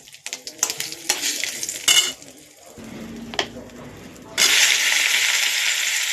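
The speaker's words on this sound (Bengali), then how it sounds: "দেখো মিট রান্না করছি" Meat being stirred and cooked in a pan for a home picnic meal: utensil scrapes and clinks, then a steady loud sizzle from the pan in the final seconds.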